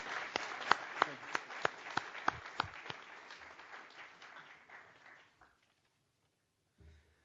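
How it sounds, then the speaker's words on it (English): Applause at a Carnegie Mellon Australia graduation ceremony: a hall full of clapping with a few sharp claps standing out near the front, thinning and fading away to near silence after about five seconds. "give a strong round of applause to Carnegie Mellon, the Australian government, our teachers,"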